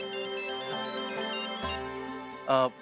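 A melodic phone ringtone plays nearby, a bright tune of repeating electronic notes, ending with a louder chiming burst.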